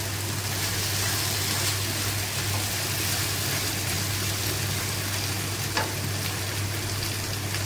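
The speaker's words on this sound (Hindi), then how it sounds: "अब तो मुसलसल हम चम्मच हिलाते रहेंगे कि यहाँ तक कि हमारे अंडे अच्छी तरीके से पकना गए" Eggs and potatoes with onion frying in a pan while a spoon keeps stirring them, a continuous close sizzle with a steady hum underneath and an occasional faint clink, no voices.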